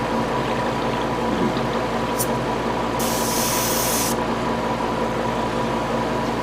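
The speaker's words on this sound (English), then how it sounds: "using this airbrush is not the best" Airbrush spraying paint onto a Revell 1/72 scale model kit, a steady close hiss of air throughout with a brief brighter burst partway, no talking.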